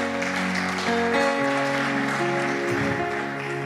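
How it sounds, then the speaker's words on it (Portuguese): A church congregation applauding, steady dense clapping filling the room for a few seconds over sustained music. "Vamos aplaudir o Senhor pela vida do Eduardo."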